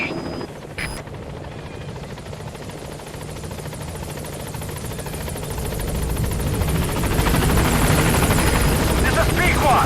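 A helicopter in the Metal Gear Solid V video game approaching the landing zone: a steady rotor thrum and buzzing engine that grows louder and nearer toward the end, with radio-style voices over it.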